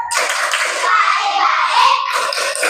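Classroom of schoolchildren doing a rhythmic clapping chant before a lesson, a loud, steady burst of many small hands clapping with children's voices mixed in, pausing briefly near the end.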